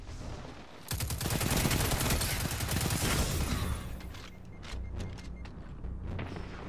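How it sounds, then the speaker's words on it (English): Rapid sidearm gunfire from a Destiny 2 Crucible match, dense bursts of shots starting about a second in and running for a few seconds, then sparser individual shots amid game sounds. "Just taking pot shots with the fucking sidearm."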